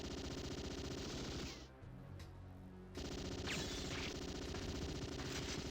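Heavy machine gun fire in the arcade shooter Metal Slug 6, a loud continuous burst of rapid shots that drops briefly before resuming at full intensity, with no talking.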